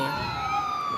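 A police siren wails from the video game Gangstar Vegas, a short steady electronic tone sounding clear and fairly loud over faint background.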